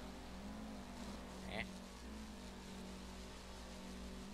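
Stock-engine Evo cars idle in Forza Horizon 4, a steady low engine drone holding evenly throughout with a brief higher chirp partway through.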